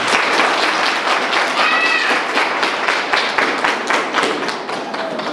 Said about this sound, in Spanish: Brindemos un aplauso, por favor.